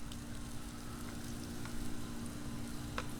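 Sausage sizzling on a Blackstone 22-inch griddle, a steady soft hiss of frying meat with a faint low hum underneath and no voices.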